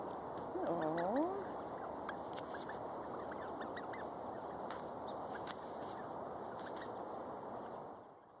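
A flock of wild turkeys calling on a neighborhood walk, with a few bird calls close by near the start. Steady outdoor background noise continues under them.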